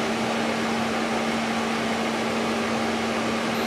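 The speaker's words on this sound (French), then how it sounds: "Dans le mode élevé, en fait, c'est le mode dont les ventilateurs tournent le plus vite." A JS Complete air purifier on its high setting gives a steady, loud whoosh of fan air with a constant hum underneath, unchanging and alone with no voices.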